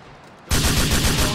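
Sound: gunfire in GTA 4 video game

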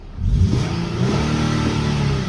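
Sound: Infiniti Q70 naturally aspirated VQ engine revving

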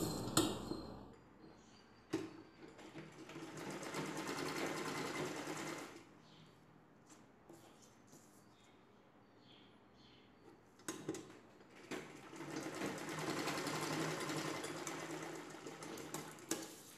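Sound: sewing machine stitching saree blouse pieces

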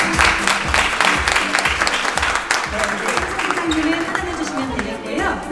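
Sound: applause

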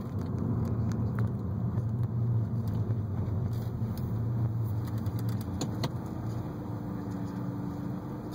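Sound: 2003 Audi A4 Avant tiptronic quattro coasting on road

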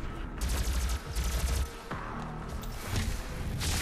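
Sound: gunfire in the video game Doom

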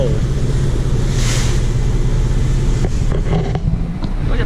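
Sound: ocean waves splashing beside ferry

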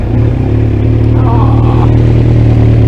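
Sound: Kawasaki Z900 motorcycle exhaust on start-up

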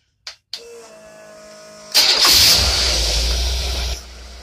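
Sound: engine running with rebuilt Stromberg single barrel carburetor

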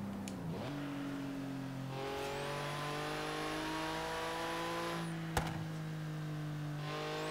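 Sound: Porsche boxer engine revving in Forza Horizon 3 video game

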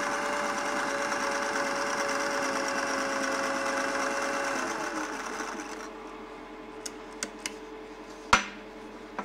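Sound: sewing machine stitching zigzag on a boat trailer strap

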